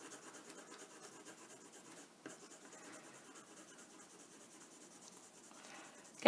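A black colored pencil shades across paper in a quiet, steady scratching rasp, close and faint, with no talking.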